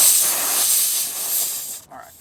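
A strong, steady hiss of air escaping from a punctured tire fills most of the clip, then cuts off sharply near the end, leaving a brief quieter burst.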